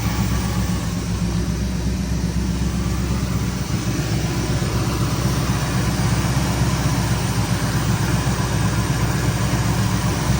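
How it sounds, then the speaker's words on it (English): A 429 cubic inch big-block V8 car engine idles steadily with a deep, even rumble, close and continuous throughout, with no talking. "And it idles and it runs"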